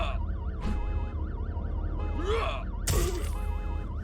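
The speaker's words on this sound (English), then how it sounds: "the alarm is still blaring, so the zombies are basically just permanently enraged." Alarm blaring in the zombie survival game Dead Season: a continuous wailing, warbling siren-like tone cycling up and down, joined by brief swooshes and a burst of louder noise near the end.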